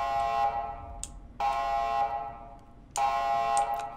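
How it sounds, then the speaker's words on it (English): Repeated electronic alarm in a ghost-hunting horror video game, three loud tonal blares of about a second each separated by short gaps, over a low background hum. "Let's get that alarm off."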